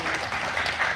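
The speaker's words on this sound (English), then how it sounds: "A nice applause." A crowd gives steady, dense applause at close range for a full second, with no talk on top.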